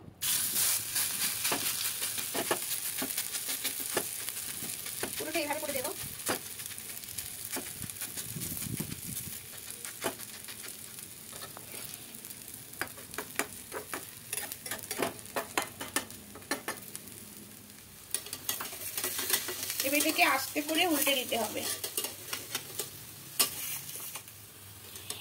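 Soybean and gram flour fritters fry in a pan over a low flame, giving a continuous hissing sizzle with spatula scrapes and light clatter, while a voice speaks briefly over it.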